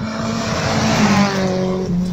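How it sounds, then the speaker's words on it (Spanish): A rally car at the 2022 Rally Catamarqueño in Catamarca drives past with a steady, loud engine drone and a slight pitch shift as it goes by, with no voices heard. "Y bueno, ahora tenemos otro auto."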